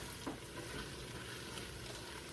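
Bacon frying in a pan gives a steady, close crackling sizzle that holds at an even level throughout, with no voices.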